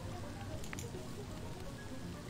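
Steady rain falls in the Sprout Valley farming video game, a soft, even hiss of drops on surfaces that continues without a break for the whole stretch.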